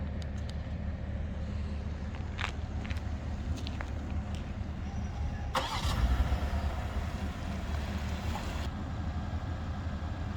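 A BMW car engine, remote-started, turns over and starts about midway, with a brief surge of noise before settling into a low, steady idle, a bit distant.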